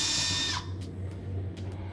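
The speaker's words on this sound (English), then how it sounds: "Remove the screws on the top, I'm sorry, with your 1/4 drill or 1/4 drill bit or 1/4 screwdriver" A power drill whirs at high pitch for about half a second, then stops, leaving a low steady hum and a few faint clicks while screws come out of the top panel of a GE refrigerator.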